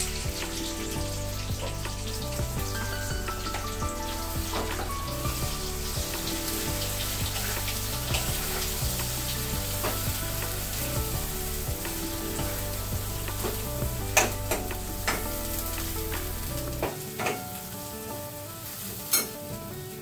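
A ground paste of ginger, garlic, coconut and onion fries in hot oil with a steady loud sizzle and occasional stirring clinks, and the hiss drops away near the end.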